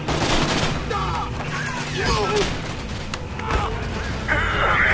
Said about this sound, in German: Ich weiß nicht mal, wo die Schüsse herkommen, alle. Es sind so viele auf einmal.